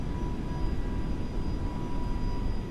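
Boeing 727 taking off in a flight simulator game, a steady, loud, broadband jet engine roar with a faint high whine, continuous throughout.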